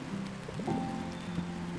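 Rain falling steadily in the video game Until Then, a soft continuous patter on surfaces at moderate level, with a low ambient drone underneath and no voices.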